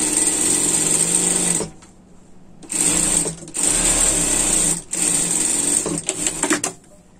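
An overlock sewing machine stitches a knit sweater in three loud, steady high-speed bursts, with short pauses between runs and a sputtering stop-start near the end.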